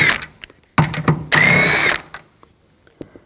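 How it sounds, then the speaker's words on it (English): Power tool spinning a 10mm socket off the side-view mirror nuts of a 2004-10 Toyota Sienna: a few short clicks and bursts, then a sustained whirring run of about half a second before it stops, followed by faint handling noises. "Use a 10 millimeter socket."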